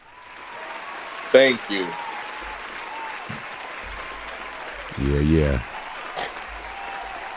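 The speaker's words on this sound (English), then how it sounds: "I'll go ahead and do the round of applause because we those guys." A brief round of applause from a few people at a podcast recording comes in short bursts of clapping, with a speaker's voice talking over and between them.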